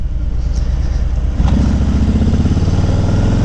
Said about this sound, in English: Now I like the sound of the stock pipes